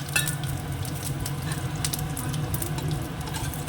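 Bay leaf, cumin seeds and a dried red chili sizzle steadily in hot oil in a pan, a close, continuous crackling fry with fine popping and no voices.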